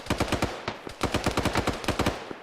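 Rapid bursts of machine gun fire in an Arma combat game, loud and close, with short volleys of rattling shots separated by brief pauses.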